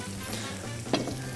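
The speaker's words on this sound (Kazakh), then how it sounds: "Ал мінекей қуырылып жатыр." Pancake batter frying in a hot pan, a continuous close sizzle with a low steady hiss and a brief sharper crackle near the end, no voices.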